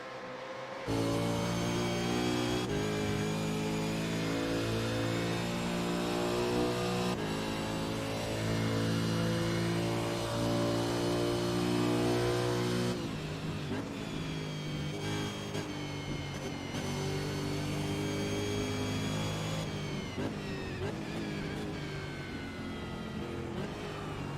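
Race car engine in the iRacing sim, heard on board a Supercar during a lap of Phillip Island: a steady loud engine drone with gear changes and shifting pitch, no voices.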